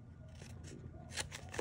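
Scissors snipping through card stock during a card-making session, several quick crisp cuts and paper rustles close to the microphone, the strokes bunching toward the end.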